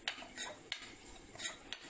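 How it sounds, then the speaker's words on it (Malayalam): Coconut and sugar stirred in a metal pan, giving quiet clinks and scrapes of a spoon against the pan at an uneven pace, close by with no talking. "തേങ്ങയും പഞ്ചസാരയും കൂടി നന്നായിട്ടൊന്ന് മിക്സ് ചെയ്യാം."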